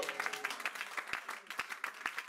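Church congregation applauding during a sermon, a steady patter of many hands clapping at moderate distance, fairly soft, with some claps standing out.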